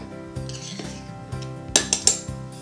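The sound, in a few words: offset spatula scraping excess flour off a cup measure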